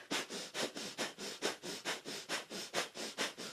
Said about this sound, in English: So breath of fire is our panting breath through the nose.